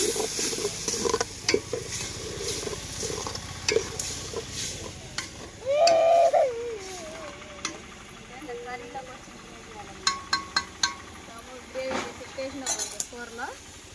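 Spiced chicken with turmeric being stirred in a pan, a spoon scraping and clinking against the metal over a soft sizzle, with a voice speaking in the background partway through.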